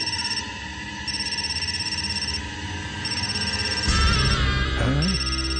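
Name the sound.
telephone ringing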